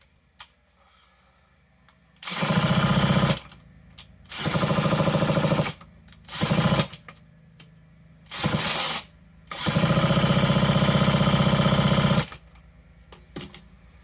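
A power drill runs in five separate bursts of a few seconds each, whirring up and cutting off with quiet pauses between, the last burst the longest, while working on an old Suzuki engine.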